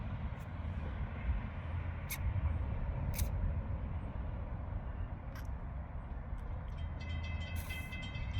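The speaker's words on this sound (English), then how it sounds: "Hear that horn." A fast Amtrak train passes at about 60 mph in northern Florida, heard as a close, heavy, continuous rumble of wheels and rail cars that holds steady throughout, with brief brighter squeals on top.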